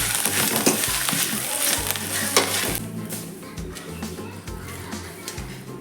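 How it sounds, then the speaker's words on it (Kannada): Green chillies sizzle steadily in a hot pan while being stirred for a Mangalorean egg green masala curry, with spoon scrapes and clinks over constant close frying hiss; faint voices occasionally sound in the background. "ಇದನ್ನು ಹಸಿಮೆಣಸಿನಕಾಯಿ 4, ಇದನ್ನು ಸಹ ಸ್ವಲ್ಪ ಫ್ರೈ ಮಾಡಿದ್ರೆ ಸಾಕು."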